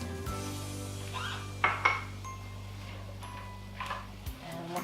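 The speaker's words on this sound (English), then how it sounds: "We're going to give this a good stir." Pineapple unfried rice with peas and green onions is stirred in a pan, with a low hum from the stove under a few light clinks and scrapes of a utensil against the pan.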